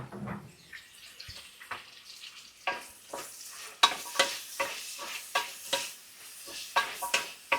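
Chopped tomatoes, green chillies and onions fry together in a pan for bitter gourd chutney. Soft sizzling is punctuated by regular, increasingly firm stirring scrapes, close and without speech.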